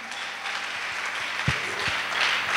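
A congregation applauds at a Christian worship service, a steady wash of many hands clapping that stays fairly even throughout, with a few sharper individual claps standing out near the middle.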